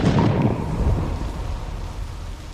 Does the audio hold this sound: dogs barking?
no